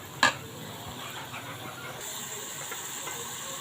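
Fried potatoes tipped into a pan of sautéed masala and stirred, giving a steady soft sizzling hiss after a brief clatter at the start.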